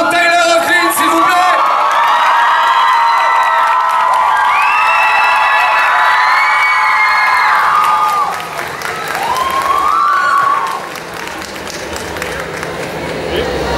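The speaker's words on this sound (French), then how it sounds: "Faites un applaudissement pour Tyler Hoechlin, s'il vous plaît." A convention crowd applauds and whoops to welcome actor Tyler Hoechlin on stage, loud and sustained at first, then easing off, with shouting voices and an amplified speaker's voice over it.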